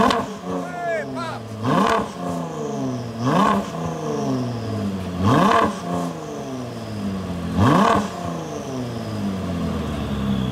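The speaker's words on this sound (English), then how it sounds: "we got my 2018 Ford GT V6 twin turbo" A 2018 Ford GT with a twin-turbo V6 revs hard four times in a steady rhythm, each rising roar peaking then falling back to idle, close and loud.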